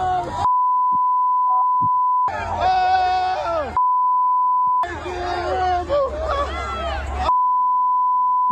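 A steady electronic beep tone sounds in long stretches, broken by bursts of loud, overlapping voices talking and shouting.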